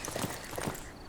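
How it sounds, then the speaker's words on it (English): A horse in the video game Civilization 6 gallops off, a brief run of soft, quick clip-clop hoofbeats heard close and alone. "See how the horse runs away into the ocean."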